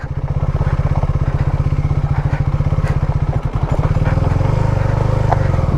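A KTM Duke 390 motorcycle engine thrums loudly in a steady, rapid low pulse while off-roading on a hill trail, the beat briefly loosening and faltering before settling into a deeper chugging rhythm.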